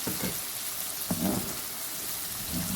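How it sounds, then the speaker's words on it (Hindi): Whole spices for chicken Afghani malai karahi sizzle in hot oil in a pan, a loud, close, steady hiss with faint crackles throughout and no voices. "इसको एक ज़रा सा हमने आधे मिनट के लिए भूनना है ताकि इसकी खुशबू भी इसमें शामिल हो जाए"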